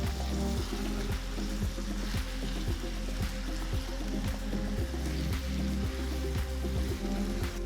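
Marinated chicken frying in a kadai on high flame for biryani, a steady close sizzle with a regular clinking or stirring knock repeating about once a second throughout.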